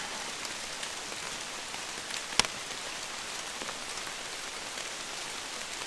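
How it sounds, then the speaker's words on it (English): Rain falls steadily on the woods during an early-season 2021 bow hunting sit, a constant even patter with one sharp louder drop or tick partway through and no voices. "Rain's picking up a little bit."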